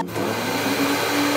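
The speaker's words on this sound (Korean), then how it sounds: "청소기로 마무리하는 하나." A vacuum cleaner runs steadily in a cartoon cafe, a continuous loud whirring hum with a faint rising tone partway through, and no voices.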